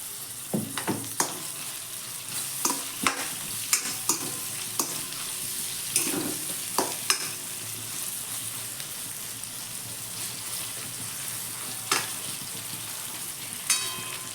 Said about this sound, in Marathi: हे आता तेलामध्ये मस्त आपण शिजवून देऊया 2 मिनटं